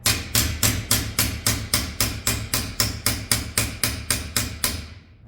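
Hammer strikes a sheet metal patch panel backed by a T-dolly, about fifteen sharp metallic blows in a quick, even rhythm, loud and close with no talking.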